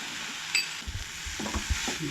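Masala of onion, tomato and turmeric stirred and fried in a pan for a Goan mushroom gravy, a steady low sizzle with scraping spoon strokes and soft knocks against the pan.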